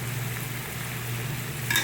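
Clove and cardamom paste hits a hot pan for a vegetable dish, producing a steady, even sizzle with no voices.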